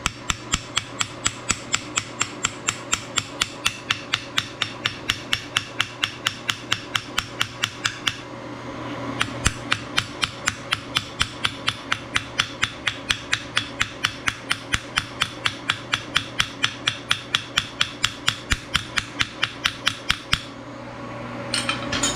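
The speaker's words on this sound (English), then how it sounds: "I'm gonna take a little teeny tiny ball peen and texture the rivets on the inside." A tiny ball peen hammer texturing rivets on the inside of a copper coffee scoop, tapping in a steady, rapid run of close, sharp metallic strikes with a short pause midway, no talk.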